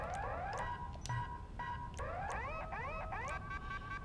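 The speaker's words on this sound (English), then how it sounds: "stunt alarm preview" A stunt alarm prop in GTA 5 sounds a quiet, repeating electronic alarm of rising and falling tones in quick cycles over a constant low hum.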